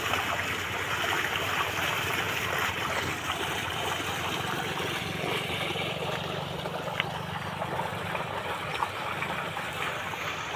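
Water gushing out of a pump motor's outlet at a riverbank in the evening makes a loud, continuous rushing splash that holds steady throughout.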